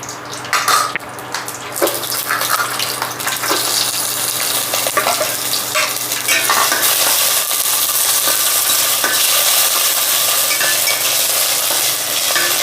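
Green chillies and curry leaves fry in hot oil in a pan, a close, steady crackling sizzle that thickens and grows louder, broken early on by a few scraping stirs, with no talk.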